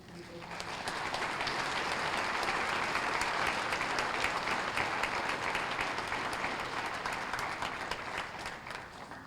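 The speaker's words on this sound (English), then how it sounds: "A round of applause for our volunteers." An audience gives a sustained round of applause for volunteers at a Take Back the Night 2019 evening event, dense crowd clapping swelling in and tapering off over several seconds.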